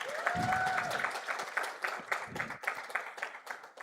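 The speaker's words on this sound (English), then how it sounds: "Why don't we get an applause for that?" Audience applause at the closing ceremony of the 2025 Africa Health Collaborative Convening, a crowd clapping steadily with a brief voice or tone near the start before the clapping settles into an uneven patter.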